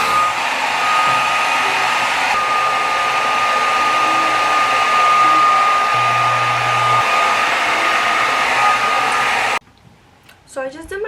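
A hair dryer fitted with a diffuser runs steadily while drying curly hair, a loud continuous whir with a constant tone that holds for about nine and a half seconds, then cuts off and leaves quieter room sound.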